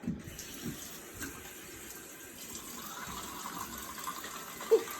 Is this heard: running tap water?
yes